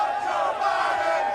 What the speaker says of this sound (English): as you can hear the chants from the crowd